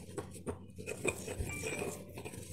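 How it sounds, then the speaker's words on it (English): A mortar and pestle grinds and mixes a moist herbal pill mass made with asafoetida, giving quiet, irregular scrapes and light clinks close by, with no voices. "So by using this mortar pestle we are mixing all these ingredients together"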